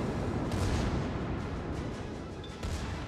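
Naval ship cannons fire in the World of Warships video game, with heavy booming salvos rising over a dense, continuous rumble of battle noise and a couple of sharper blasts standing out.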